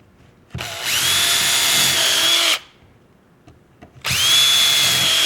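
Handheld drill boring through a template into scrap wood: two loud sustained whirring runs of about two seconds each, close up, separated by a quiet pause.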